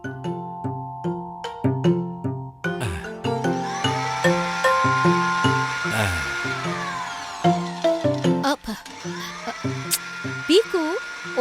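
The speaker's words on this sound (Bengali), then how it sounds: "হ্যাঁ, মিক্সারের আওয়াজ।" A cartoon kitchen mixer grinder blending chutney gives a sustained motor whine that runs alongside rhythmic music and cartoon voices.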